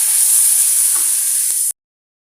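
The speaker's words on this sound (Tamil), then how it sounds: "இஞ்சி பூண்டு பேஸ்ட்டு சேர்த்து லைட்டாக அந்த பச்சை வாசனை வர லைட்டாக வதக்கி விட்டுக்கிடலாம்" Onions sauté with ginger-garlic paste in a pan for coconut milk rice, giving a bright, even hiss with a soft stir or two before it cuts off abruptly.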